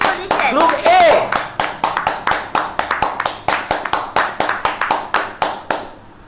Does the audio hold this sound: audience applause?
yes